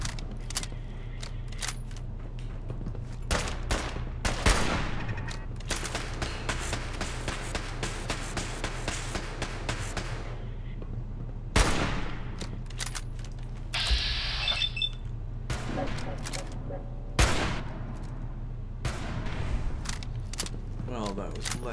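Gunfire in Fallout 4 cracks out as a dense run of rapid shots, followed by several sharp isolated bursts spread across the stretch, over a constant low game hum while people talk.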